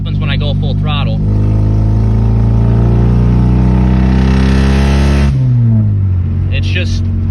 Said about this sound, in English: I'll show you what happens when I go full throttle.